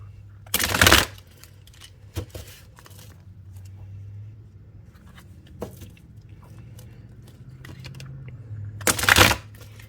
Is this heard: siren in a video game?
no